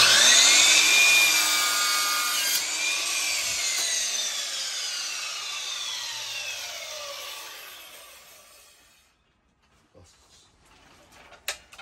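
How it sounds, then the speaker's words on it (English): A mitre saw cuts through a wooden skirting board, loud and close: a high whining blade biting into the wood, the pitch sliding down as the motor winds off, then near silence followed by a few faint knocks. "Set your saw."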